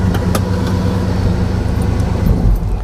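A 1965 Chevy Impala's engine idles close by, a loud, steady low rumble that holds even throughout with no change in pitch.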